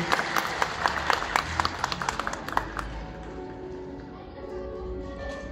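Audience applause at a secondary school diploma ceremony, sharp individual claps standing out in a loose rhythm at first, then thinning into a softer murmur of crowd noise and faint voices.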